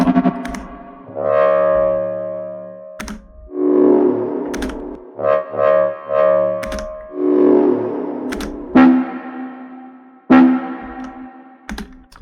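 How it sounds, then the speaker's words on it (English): Deep synth bass notes swell and cut off in bursts, each tail washing out into a big, spacious reverb, with sharp percussive hits between phrases. "so you'll hear quite a big reverb on these"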